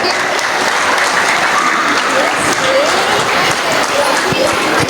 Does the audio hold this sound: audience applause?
yes